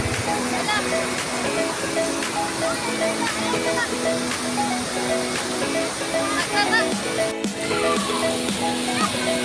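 Cold spring water at a resort overflows and pours in a steady rushing stream, heard up close, with voices and tonal music sounding over it throughout.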